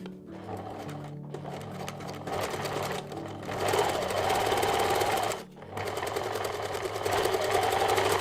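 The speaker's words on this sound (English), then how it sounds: "Now sew at about 1 centimeter or 3/8 of an inch from the edge of the bag." A sewing machine stitching a reusable fabric gift bag about a centimetre from the edge, a close, steady mechanical whir and rapid needle chatter that pauses briefly and then picks up again.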